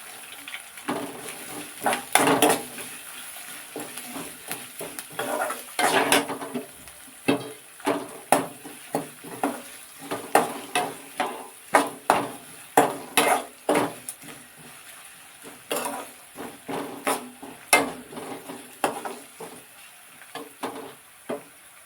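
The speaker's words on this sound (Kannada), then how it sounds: "ಮೆಣಸಿನ್ಕಾಯಿ, ಈರುಳ್ಳಿ ಹಾಕ್ಕೊತೀನಿ." Green chillies and onion frying in a pan while being stirred, with repeated scraping strokes and clinks of the spatula over a steady sizzle, close and fairly loud.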